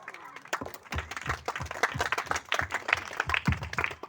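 An audience claps to welcome guests onto the stage at a student felicitation ceremony, a moderate burst of uneven hand claps from a modest crowd, steady throughout with no talk over it.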